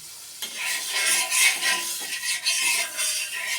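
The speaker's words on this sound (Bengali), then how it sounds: "বাটারটা আমি চারিদিকে ছড়িয়ে দেবো" Butter scraped and spread across a hot tawa griddle, giving a soft gritty stirring scrape with a light sizzle, close up and alone.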